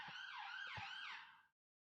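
Faint, distant siren wails in sweeping, rising and falling tones for about a second and a half, then cuts off abruptly into silence.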